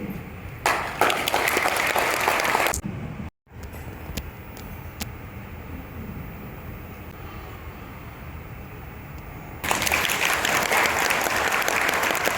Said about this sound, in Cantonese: 我都想繼續借助大家嘅掌聲嚟鼓勵下我哋今日新郎哥家榮㗎